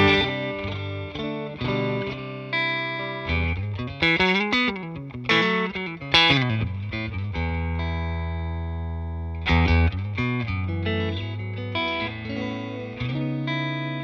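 Clean electric guitar tone with a touch of reverb and no delay, played through a Xotic Soul Driven and RC Booster v2 setup: sustained chords and melodic runs ringing steadily, close and clear, with no one speaking.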